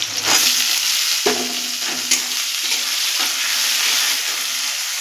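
Potatoes are tossed into a wok of fried onions and hot oil, producing a constant close sizzle with a few sharp spatula scrapes and clanks as they are stirred.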